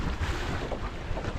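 Steady wind rushes and buffets past a sailboat running on a broad reach over open water, a continuous close roar with no voices.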